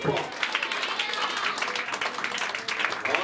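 A church congregation claps their hands in a dense, continuous burst of applause with a rapid, uneven rhythm, loud and close for the full stretch, with voices mixed in.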